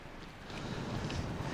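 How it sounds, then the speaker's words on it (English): Strong wind blowing across an exposed Scottish mountain plateau, a steady roaring buffet of gusts battering the microphone throughout, with no voices. "we're just talking about how windy it is here"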